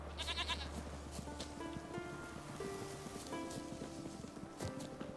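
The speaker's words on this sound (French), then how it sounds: "Oh, des chèvres." Several goats bleat in The Witcher 3 in short wavering cries against a soft background patter, the calls overlapping near and far.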